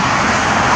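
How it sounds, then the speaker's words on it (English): A fixed-wing airplane flies overhead, its engine giving a steady, loud, broadband roar that fills the whole short stretch with no voices. "We just saw a real plane."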